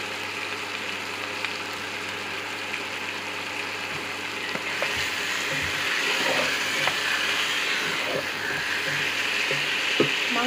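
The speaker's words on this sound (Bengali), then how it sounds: "মাংসটা লাল লাল ভাজা ভাজা হয়ে যাবে বন্ধুরা।" Chicken frying in a pan with ginger and cumin paste sizzles steadily for Hyderabadi-style achari chicken kosha, with occasional scrapes and clinks of stirring growing slightly louder toward the end; no one speaks.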